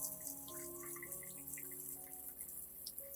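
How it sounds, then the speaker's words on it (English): Tap water runs steadily while a plant is rinsed under it, a close, constant splashing flow with faint drips and tonal sink resonance, no voices. "Next, rinse the plant under clean running water."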